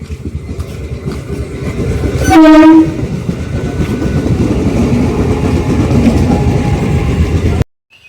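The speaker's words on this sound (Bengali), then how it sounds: "এই আমার ট্রেন আসছে, ট্রেন আসছে" A passenger train arrives with a single loud horn blast, then rolls past close by in a long heavy rumble with clattering wheels before cutting to silence.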